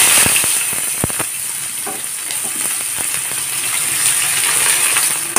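Sliced onions fry in hot oil left over from frying small morola fish, a steady crackling sizzle with scattered sharp pops and stirring clicks throughout, close and fairly loud, no voices.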